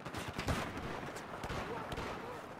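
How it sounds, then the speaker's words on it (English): Famas rifle gunfight in Battlefield 4: bursts of automatic gunfire crack at moderate level, with several sharp shots and scattered impacts over a busy game background. "That's a stupid gunfight for me to choose"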